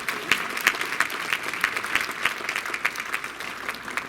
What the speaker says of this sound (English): Can we encourage her with a round of applause, please?